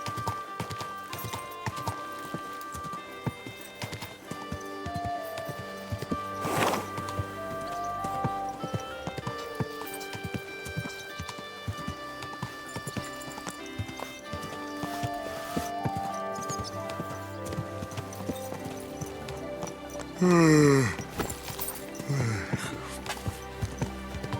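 Horse hooves clip-clopping in the video game Kingdom Come Deliverance 2, a steady rhythmic walking gait over game music, with a brief neigh near the end.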